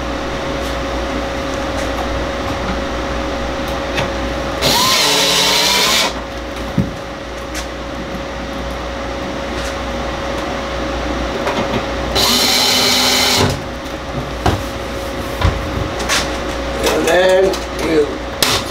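Two loud bursts of a power drill whirring while installing a Navien tankless water heater, each lasting about a second, separated by quieter room noise and a few clicks and rattles.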